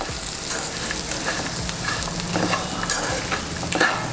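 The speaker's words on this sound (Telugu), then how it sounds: "సాల్ట్ వేసిన తర్వాత ఒకసారి కలుపుకుందాము" Salted okra fry stirred in a hot pan, a spatula scraping and clinking repeatedly over a steady sizzle, close and loud, with no talking.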